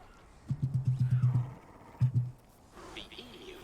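An emu in the video game Death Stranding 2 gives a run of deep, drumming booms in quick pulses, then a short pair of further booms, followed by a faint higher call.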